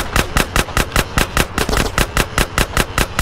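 Automatic gunfire in GTA San Andreas: a loud, evenly spaced rapid string of roughly twenty shots firing without pause, close and alone.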